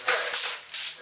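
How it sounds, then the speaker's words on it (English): An airless spray gun applies Duratex coating in two short bursts, a sharp loud hissing spray that starts and stops abruptly. "keep that distance consistent when you're spraying with that gun"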